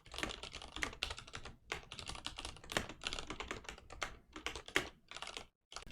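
Rapid, close computer keyboard typing while writing code fills the stretch, bursts of crisp key clicks with short pauses between runs, no voices.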